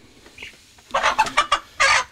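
A free-range farm chicken picked up and held, giving a burst of loud, close clucks and squawks in quick, uneven bursts after a quiet start.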